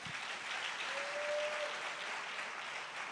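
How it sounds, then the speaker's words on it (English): Audience applause fills a ceremony hall at a white coat ceremony welcoming a veterinary medicine dean, a steady, dense wash of many hands clapping for about three seconds with no voices over it. "let's acknowledge with a round of applause the Dean of the School of Veterinary Medicine"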